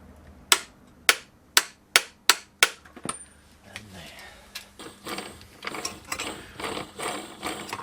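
A high-range torque wrench tightens a nut to 150 foot-pounds on a Classic Mini 1380 build, giving a series of sharp, evenly spaced ratchet clicks up close, followed by softer, busier mechanical clatter.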